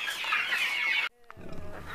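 A chicken for sale on a farm clucks loudly and continuously up close, then cuts off abruptly, leaving quieter farmyard background noise.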